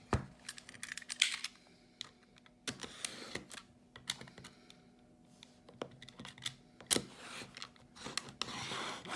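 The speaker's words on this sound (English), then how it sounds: "let's flip this open and open the box" A green Samsung Galaxy S10 Plus box is handled and opened up close, with scattered light clicks, taps and short scraping rustles of cardboard and plastic in quiet surroundings, no talking.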